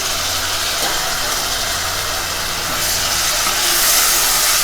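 Tomato pieces go into onions already frying in a pan for dhaba-style mutton masala, giving a loud, steady hiss and sizzle that swells slightly toward the end, with no talking.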